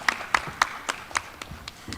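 A handful of sparse, separate claps ring out at a startup showcase after a pitch, roughly evenly spaced and moderately close, with faint background noise between them.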